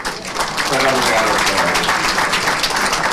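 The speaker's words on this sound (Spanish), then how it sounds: "Van a pasar fuertes aplausos para el doctor." Applause from an audience in an auditorium at a legal lecture event, a thick, sustained wash of clapping that swells and holds fairly loud, with voices murmuring beneath it.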